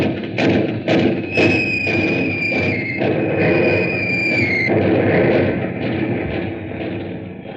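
A wartime air raid in a radio drama brings a long, falling whistle over rolling thuds and rumbling explosions, loud and without speech, fading toward the end.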